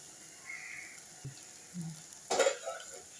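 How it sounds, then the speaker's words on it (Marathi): Vegetables being sautéed with amchur powder in a pan for a leftover chapati dish, with a few soft stirring scrapes and a brief sizzle, then a sharper clatter near the end, in a quiet kitchen. "आता या भाजीमध्ये पाव चमचा आमचूर पावडर घालूया व भाजी चांगली परतून घेऊया"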